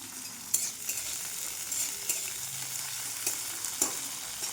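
Capsicum pieces frying in oil for an egg dish, a steady soft sizzle with a few sharper crackles and spatter pops, quiet and close, with no talking.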